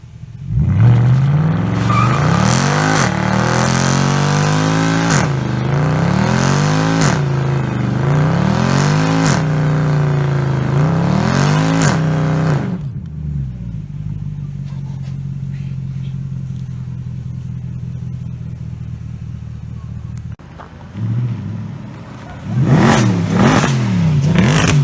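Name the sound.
Lamborghini Aventador car departing, engine revving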